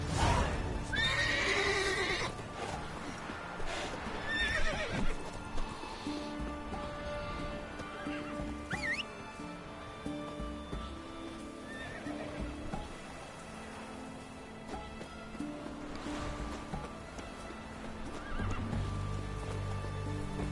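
A horse neighs and whinnies over clip-clopping hooves, with a steady background wash like rain throughout, in The Witcher 3 video game.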